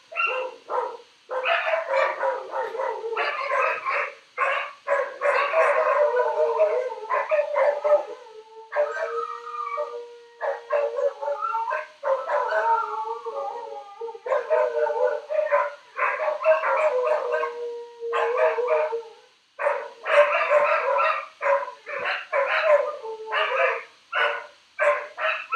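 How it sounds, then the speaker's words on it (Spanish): Pet dogs howl together indoors in long, wavering, overlapping cries, breaking off briefly and starting again throughout, loud and near. "Es el ritual diario de mis perritas. Les gusta aullar."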